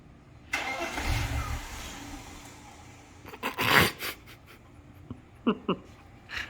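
A BMW E46 engine cranks and turns over nearby, followed by a few short revs and clicks amid quiet surroundings.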